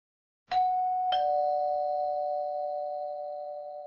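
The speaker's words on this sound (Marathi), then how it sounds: "थरथरत्या हाताने त्याने दारावरची घंटा वाजवली." Two-tone doorbell at a house door, struck twice in quick succession, then its clear electronic chime rings on and slowly fades, loud and alone against silence.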